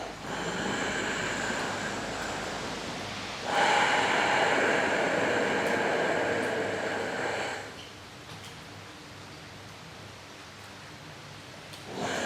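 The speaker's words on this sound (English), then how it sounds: "I'm going to inhale, exhale, and hold with empty lungs" Pyramid breathing exercise for fighters and martial artists, with a long steady breath of airy noise, then a louder stronger stretch, then a quieter held phase; close and alone, with no talking.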